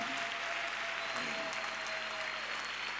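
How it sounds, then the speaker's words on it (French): Steady applause from a church congregation at a French-language prayer mass, a dense even wash of many hands clapping throughout, with a faint sustained tone running beneath it. "Applaudis très bien le Seigneur des Seigneurs."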